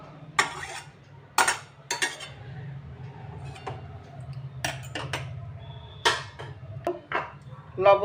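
Chicken, vegetables and ginger-garlic paste are stirred together in a pot, giving scattered clinks and scrapes of a utensil against metal over a faint low hum.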